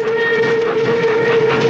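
A steam train moving in an old Western, with a sustained whistle tone held steadily over a dense rumbling roar of rolling wagons, loud and close throughout.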